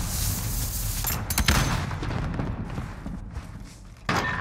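Video game gunfire with a shotgun cracks out in a loud burst near the start, then sharper shots and thuds follow through a busy firefight, a final blast closing it.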